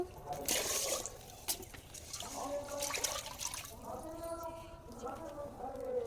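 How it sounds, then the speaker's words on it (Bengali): Water splashes and trickles into a cooking pot of rice close by, bursty at first then settling, with a voice talking over it. "যতটুকু পানি লাগবে পরিমাণ মতো আমি পানি দিয়ে দেবো"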